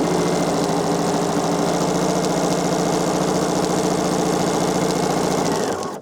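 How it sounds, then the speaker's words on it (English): A sewing machine runs steadily at close range, stitching a straight line across a striped quilt-as-you-go quilt block with a continuous, even mechanical whir, then stops abruptly at the end. "So I'm just going to do another line of stitching."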